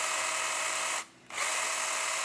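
A cordless battery garden saw for cutting small backyard trees whines steadily at high speed, briefly dips and stops, then spins straight back up to a loud continuous buzz with no talking.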